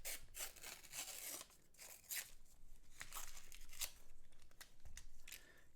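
The paper wrapper of a roll of half dollar coins is torn open close up, with repeated crisp ripping and crinkling bursts in an uneven rhythm.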